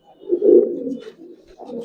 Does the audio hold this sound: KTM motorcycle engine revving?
no